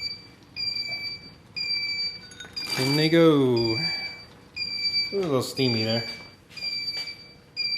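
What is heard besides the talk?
brewing controller timer alarm beeping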